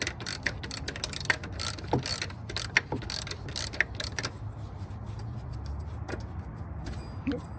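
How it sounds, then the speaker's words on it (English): A ratchet working a bolt loose on a Jeep Cherokee XJ engine: a fast run of sharp metallic clicks in quick bursts up close, tapering to a few scattered clicks over faint background hum. "Now we're going to loosen this bolt."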